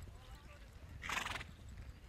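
Young six-year-old horse Warhawk is ridden in a one-star eventing class, with faint hoofbeats and a brief whinny rising over low outdoor ambience and wind.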